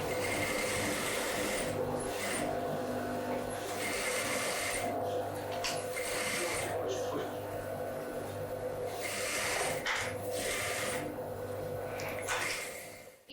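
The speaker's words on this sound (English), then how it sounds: "now Czeslava will stitch it and I will show you" A sewing machine stitches the waistband of a warm A-line skirt, running steadily and loud up close with a continuous mechanical whir and brief changes in pace.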